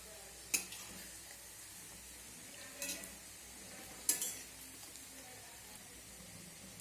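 Onion and egg pakoras in gram-flour batter frying over low flame, a soft, faint sizzle with a few sharp clinks of a utensil against the pan spaced apart.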